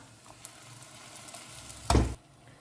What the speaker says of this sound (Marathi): जस्ट 1-2 मिनटांनी ताका फ्राय करून घेता